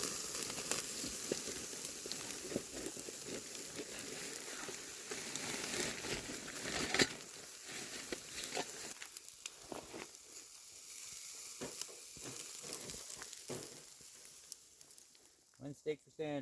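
Steak charring over a campfire at a snowy winter camp under a tarp, a faint steady sizzle and crackle, with people talking over it.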